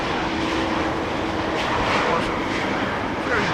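A passenger airplane lands at Amsterdam Schiphol, a loud, steady broadband roar of engines and rushing air carrying on without break, heard outdoors with no voice over it.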